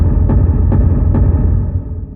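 A kick drum drenched in concert hall reverb swells into a low, sustained rumble, with three soft repeated hits audible in the wash before it fades.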